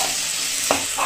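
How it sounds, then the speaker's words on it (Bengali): Potato, carrot and cauliflower pieces frying in oil in a pan make a steady, close sizzling hiss, with a brief stir-like knock near the end. "এবার একটু ভাজা ভাজা মতন করব যাতে সবজিগুলো একটু সেদ্ধ হয়ে যায়।"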